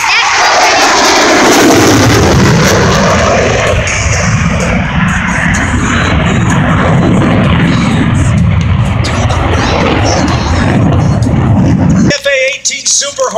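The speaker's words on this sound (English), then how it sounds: "Lieutenant Djokovic and Lieutenant Lucas come aboard here at Willow Run Airport for full stop landing" An F/A-18 Super Hornet jet comes in for a full-stop landing at Willow Run Airport during an air show, its loud roar slowly fading before cutting off sharply near the end.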